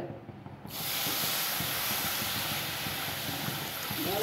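Boiled and cooled milk poured into roasted semolina (rava) for a sweet rava dish, setting off a sudden loud hiss that starts after a brief quiet moment and holds steady and close.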